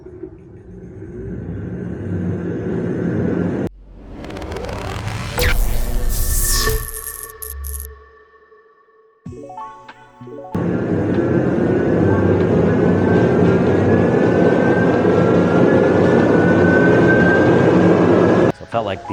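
A $1,399 sleek electric commuter bike accelerating on a power test ride, steady broadband road and motor rumble with a rising whine as it gains speed, interrupted midway by brief loud bursts and wind buffeting, with a voice heard briefly.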